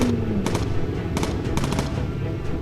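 Gun turrets on a World War II bomber in Bomber Crew fire short bursts of rapid shots, a few clustered volleys over a steady droning engine hum.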